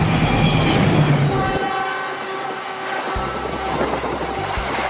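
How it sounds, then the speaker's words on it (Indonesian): Toy CC203 train locomotive sounds play loudly: a rumbling engine with a tooting horn and steady clattering, continuous throughout. "Di sini ada mainan gerbong kereta api lokomotif teman-teman."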